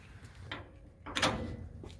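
A lightweight trailer door on a standard hinge swings shut and its latch clicks into place, a sharp close click followed by a brief rattle, near and fairly loud.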